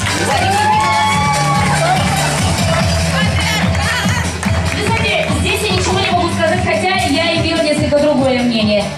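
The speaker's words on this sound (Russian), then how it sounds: "Аплодисменты." A crowd at a graduation ball cheers, whoops and shouts loudly, with lively voices and babble over clapping throughout.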